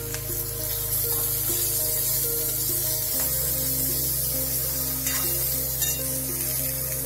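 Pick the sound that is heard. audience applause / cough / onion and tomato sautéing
onion and tomato sautéing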